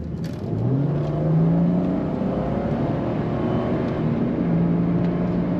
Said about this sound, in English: Very responsive throttle in this car.